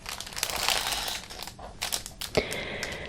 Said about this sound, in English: This is still in the plastic, crinkly here.